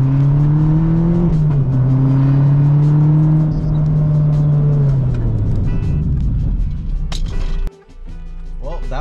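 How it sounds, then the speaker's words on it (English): Mazda ND Miata on Goodwin 4-piston caliper brakes making a 50-0 stop with cold calipers: loud engine and road noise with a falling tone as the car slows, then a sudden drop near the end. "Right now we're doing a 50-0 stop on the Goodwin 4-piston caliper brakes on the ND Miata"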